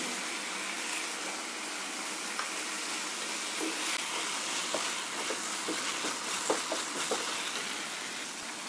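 Shallow-fried potatoes going into cooked masala for dum aloo: a faint continuous sizzle of frying with scattered light clicks and scrapes of stirring, quiet throughout with no voices.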